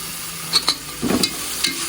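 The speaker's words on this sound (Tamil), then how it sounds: "கொஞ்சம் போல் புதினா அதே சேர்த்து வதக்கிடணும் புதினா வதங்கணும்" Mint leaves sautéing in a pan for prawn biryani: a close, low sizzle broken by a few short scraping stirs of the spatula over about two seconds, with no voices.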